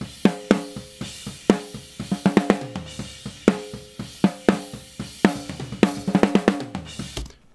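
Snare drum played hard and captured by its top microphone through a dbx 160X compressor: sharp, ringing cracks in a groove with quick ghost-note flurries, close and bright, cymbal wash behind, no speech.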